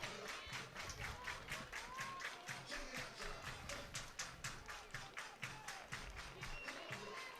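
Crowd at a Big Ten college softball game between Wisconsin and Northwestern cheering with steady, dense clapping throughout, a lively, continuous roar of applause from a full home stand.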